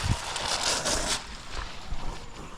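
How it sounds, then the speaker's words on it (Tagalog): Powerful rushing water at Tanawan Falls in Dingalan, a broad steady roar with a louder surge early on, heard close by outdoors with some wind buffeting. "Lakas ng tubig dito oh."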